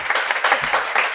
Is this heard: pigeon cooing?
no